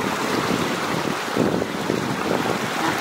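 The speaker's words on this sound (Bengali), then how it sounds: "আপনারা দেখেন নদীর জল কিরকম স্রোত বইতে লাগছে।" Steady broadband rush of a river current flowing past a village riverside picnic spot in winter, loud and continuous with wind buffeting the microphone and no pauses.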